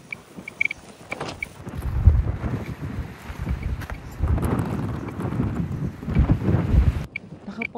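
Strong desert gusts buffet the microphone in a loud, rumbling roar that swells and eases, with a few faint taps in the background, in the Coachella Valley Preserve.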